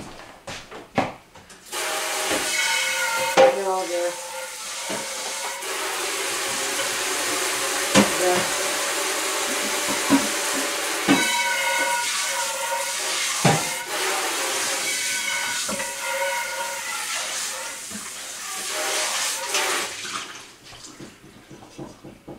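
Tap water runs into a hot skillet that has just fried hamburger, with a steady rush, splashing and scraping of the pan, continuing for about twenty seconds before cutting off.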